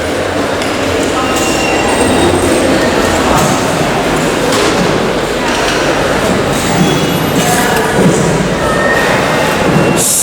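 Subway train rumbling through a large New York subway station, a loud, steady roar of wheels and cars filling the whole stretch, with faint metallic clinks and pings over the din.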